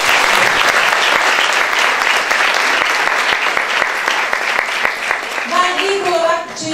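Loud, sustained applause from a crowd at a hospital New Year celebration, dense clapping filling the room for several seconds before it thins out and a voice starts speaking near the end.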